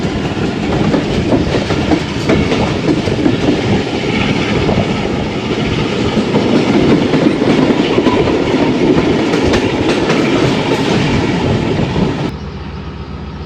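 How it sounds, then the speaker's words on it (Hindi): Diesel locomotive ZCU 30 hauling the Allama Iqbal Express in Pakistan, a loud, steady chugging roar with rumbling wheels and rail clatter that carries on without a break, then drops sharply in level near the end. "ज़बरदस्त चगिंग साउंड ZCU 30 की।"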